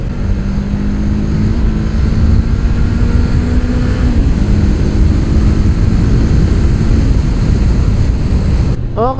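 Honda CBR sportbike accelerating hard, a loud, steady engine and wind roar with a rising tone, sustained throughout and ending abruptly.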